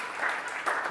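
A crowd at a tech company event applauds a band in a brief, steady burst of clapping with a couple of louder swells.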